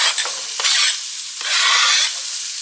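A whole onion sizzles loudly in sesame oil, a bright close hissing fry that swells and eases with a couple of stirring scrapes, no speech present.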